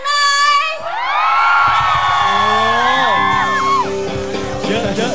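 A crowd of young voices at a music festival in Pattaya screams and cheers loudly in a rising burst, holding for several seconds before fading into scattered shouts.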